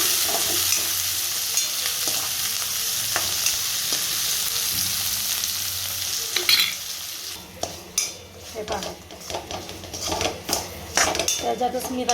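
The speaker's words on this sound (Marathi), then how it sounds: "त्याच्यातच मी रवा भाजते." Semolina roasting in a pan with onion and tomato already sautéed in it, a steady sizzle at first, then scraping stirs and clinks of a utensil against the pan, close up.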